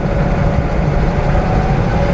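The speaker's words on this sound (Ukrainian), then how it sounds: "Дивно, що двигун, коли газуєш, він дуже гучний." A Hummer engine drones steadily and loudly as it climbs uphill under throttle, a constant low rumble with no talking over it.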